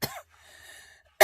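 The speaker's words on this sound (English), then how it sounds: "What's with this coughing today?" A close, single cough, with a second burst right after a quiet pause, in an indoor room during a relaxed art-making session.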